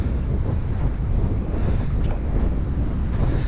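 Strong wind buffets the microphone with a steady low roar on high water while fishing from a boat, with faint water sounds underneath. No one speaks.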